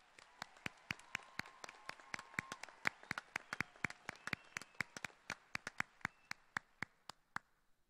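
Applause for the Chipola College Class of 2017 graduates at their graduation ceremony, heard as sparse, distinct hand claps ringing out in an irregular patter across a quiet hall, fairly faint and with no voices.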